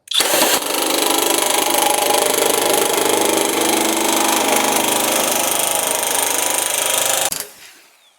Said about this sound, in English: So we're going to show you how easy this is to cut this metal.